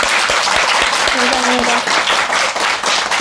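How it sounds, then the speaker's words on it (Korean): A small audience claps warmly for a guest in a lively burst of applause, with a voice speaking briefly over it. "박수 한번 좀 부탁드려요."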